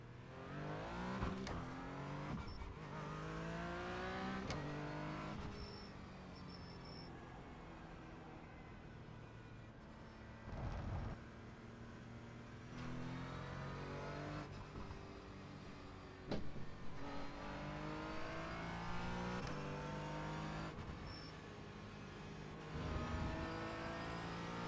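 A race car in a racing video game laps the Donington circuit, its engine revving up and down through repeated gear changes and rising pitch sweeps, steady and fairly quiet.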